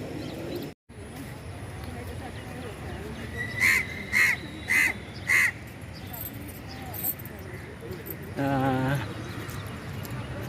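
A crow caws four times in an even sequence over outdoor background noise, followed by a longer, rougher call a few seconds later.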